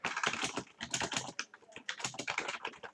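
Computer keyboard typing a Python formula, a fast steady patter of close key clicks with brief pauses, no talking.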